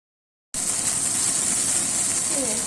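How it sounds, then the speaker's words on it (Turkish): Meatballs sizzle in a hot pan, a steady loud hiss and crackle of frying that starts abruptly after a moment of silence and continues evenly throughout. "Dediğim gibi köftelerimi şöyle bir kavurdum."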